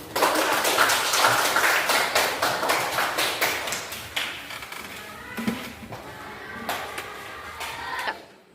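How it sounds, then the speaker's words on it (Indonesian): A classroom full of students breaks into applause: dense, steady clapping that carries for several seconds, then thins and tapers off toward the end. "Mari kita berikan dulu aplaus untuk"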